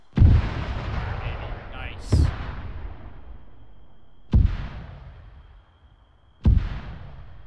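Mortar shells exploding in a military shooter game: four heavy booming blasts, one large opening impact followed by three more spaced about two seconds apart, each with a long rumbling decay, loud and close.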